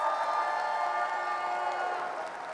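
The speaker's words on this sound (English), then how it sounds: "Give her a round of applause." Audience applause and cheering at a business talk, a continuous crowd roar with clapping and whoops, fairly even and fading slightly toward the end.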